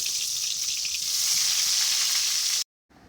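A vegetable curry sizzles and fries in a pan on a home stove with a steady, bright hiss that stays close and even. The sizzle cuts off abruptly near the end and is followed by a brief quieter patch.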